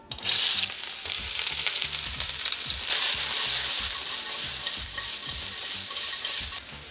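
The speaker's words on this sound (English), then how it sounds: "Oil in, onions in." Onions sizzle loudly in hot oil in a pan while cooking takeout-style fried noodles. The steady frying hiss runs throughout, with stirring scrapes and a surge in intensity partway through.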